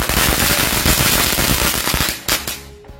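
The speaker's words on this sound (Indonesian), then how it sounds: "selanjutnya kita cobain mercon telur dino yang jumbo ya" A jumbo dino-egg firecracker goes off in a dense, loud rattle of rapid crackling bursts for over two seconds, then fades into a few scattered pops and a quieter tail.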